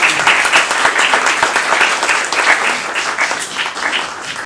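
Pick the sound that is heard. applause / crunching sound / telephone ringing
applause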